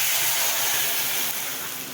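Hot tempering hisses and sizzles in a strong, steady rush as it is poured into saaru, a greens-and-lentil bassaru, filling the short moment up close with no talk.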